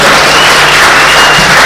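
A loud, dense wash of audience applause fills a citizens' legislative conference hall as a guest is welcomed, steady and sustained throughout with no speech over it.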